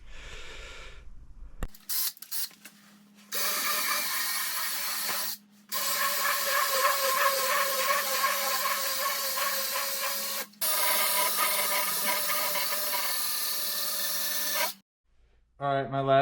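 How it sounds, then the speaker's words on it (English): A horsehair brush scrubs a freshly waxed snowboard base in long, continuous rasping strokes, close and fairly loud, stopping briefly between passes. "we're going to switch it over and hit it twice with the horsehair brush"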